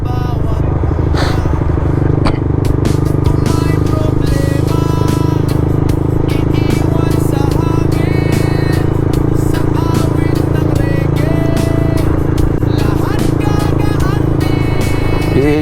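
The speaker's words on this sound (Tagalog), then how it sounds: "Iikot lang natin yung ating motor" A motorcycle engine drones loudly and steadily while riding, with a slight rev early on and clattering road noise throughout.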